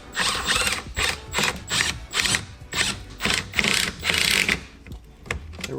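A screw is backed out of a carbon fiber front lip on a WRX with a ratcheting tool, giving repeated close clicking and whirring bursts in an irregular rhythm.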